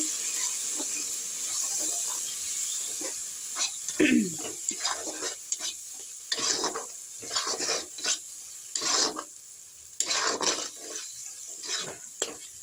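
A spoon stirring dried fish curry with ginger paste and a splash of water in a pan makes repeated scraping, rasping strokes over a soft sizzle, close and fairly clear, with a voice talking at times.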